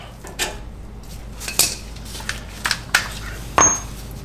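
A cotter pin is bent straight and pulled from the castle nut on a Toyota CV axle, giving a series of sharp metallic clinks and taps spaced irregularly over a quiet garage background.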